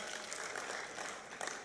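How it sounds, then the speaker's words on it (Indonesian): An audience at a stand-up comedy show claps in brief, dense applause that holds steady with a small burst near the end, and no one speaks over it. "Tepuk tangan, Pak."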